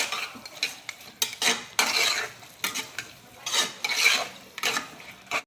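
A spoon scraping and turning chicken with onions and tomatoes in a pan for Chettinad chicken gravy, rhythmic clanking stir strokes over a light sizzle, close and fairly loud, no talking.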